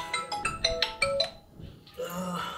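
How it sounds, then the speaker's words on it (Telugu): A mobile phone ringtone plays a quick run of bright melodic notes for about a second, then pauses, and a faint murmur of voices follows. "ఫోన్ వచ్చింది."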